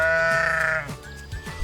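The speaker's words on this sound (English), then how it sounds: "Yes, it's a sheep. Sheep say baa." A sheep lets out one loud, wavering bleat lasting under a second, close and clear, followed by quieter background sounds.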